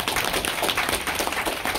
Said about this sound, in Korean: 제가 박수 한번 칠까요?